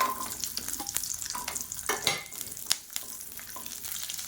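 Whole small shallots sizzling in hot oil with chunks of asafoetida for a Tamil thuvayal, a close, crackling fry with sharp spits and pops while the pan is stirred now and then.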